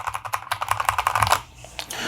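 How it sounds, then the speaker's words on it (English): Rapid keystrokes on a mechanical keyboard fitted with smooth linear switches, a dense run of close, soft clacks that stops partway, leaving a few scattered taps. "One of them has smooth linear switches."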